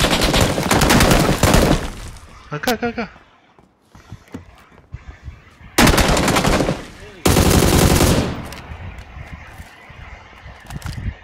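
Bursts of rapid automatic gunfire in PUBG on the Miramar map, loud and close, broken by pauses where a man calls out briefly in Spanish.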